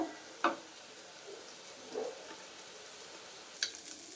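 Prawns coated in ginger garlic paste fry quietly in a pan for biryani, giving a soft continuous sizzle punctuated by a few brief scrapes and clinks of stirring.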